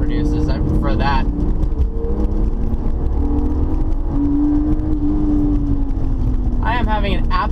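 A 1999 BMW E36 M3 engine hums and whirs steadily while driving, with a rising and falling tone; brief speech-like sounds appear at the start and end.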